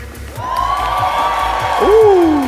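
A conference crowd at a motivational event on becoming a millionaire cheers and whoops, with sustained shouts rising and sliding over steady clapping, loud and close, swelling toward the end.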